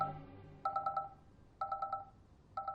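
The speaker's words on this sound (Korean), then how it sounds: "다행히 어머니 핸드폰이 울리게 되고" A mother's mobile phone rings with a repeating electronic tone, bursts of quick trilling pulses returning about once a second over a soft musical background, fairly quiet.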